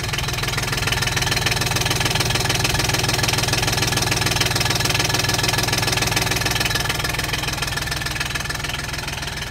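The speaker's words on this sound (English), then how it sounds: "Diesel Yanmar engine." Diesel Yanmar engine of a John Deere Gator utility vehicle running at a steady idle, a continuous close, knocking mid-pitched chug with even loudness and no talking.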